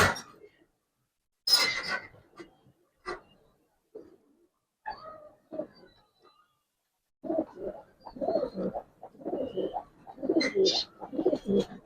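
Pigeons cooing in a seller's loft, among them a mixed black-and-white pair, with soft, close coos in bursts between people talking.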